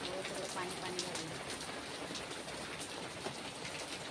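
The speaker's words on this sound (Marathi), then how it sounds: "पाऊस काही थांबत नाही।" Heavy monsoon rain pours down in a steady, dense hiss, close and continuous, with a voice talking faintly beneath it.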